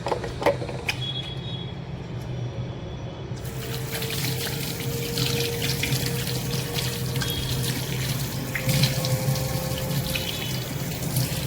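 A water tap runs steadily into a sink while someone washes hands and face, a continuous close splashing trickle with small shifts in flow and no talking.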